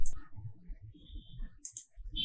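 A computer mouse clicks sharply a few times while an IP number is entered into the ESIC portal, with soft low voice murmur underneath in a quiet room.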